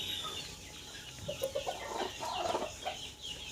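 A broody hen sitting on eggs gives low, grumbling clucks close by, a series of short agitated calls over a steady background hiss.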